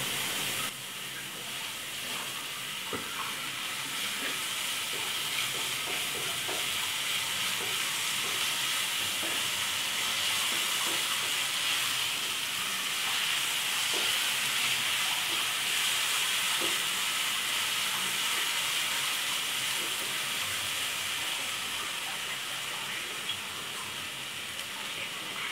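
Ginger garlic paste sautés in a pan for a long stretch, giving a steady broadband hiss and sizzle with soft stirring scrapes and occasional small pops, fairly loud and close, with no one talking.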